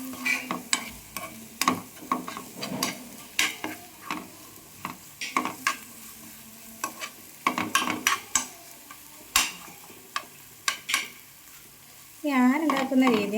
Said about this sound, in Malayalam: ഇതിലോട്ട് ഞാൻ 2 മുട്ട ആഡ് ചെയ്തിട്ടുണ്ട്. ഇനി നന്നായിട്ട് മിക്സ് ചെയ്ത് കൊടുക്കുക.